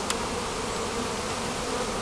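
Honeybees from a newly installed package hive hum in a dense, steady buzz close by, with no voices over it.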